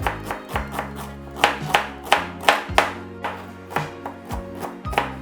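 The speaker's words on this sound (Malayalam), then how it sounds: "ഇപ്പോൾ ഒരു സവാള ക്ലീൻ ചെയ്ത് വെച്ചിട്ടുണ്ട്, അത് ചെറുതായിട്ട് അരിഞ്ഞ് അതിൽ ചേർക്കാം" A knife finely chops a cleaned onion on a board in quick, steady strokes, about three crisp taps per second, close and distinct, with faint tonal background sound.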